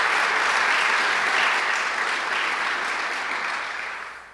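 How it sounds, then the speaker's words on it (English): A large audience gives the governor a loud, sustained round of applause, dense clapping that stays strong and then tapers toward the end. "Can we have another round of applause for the governor?"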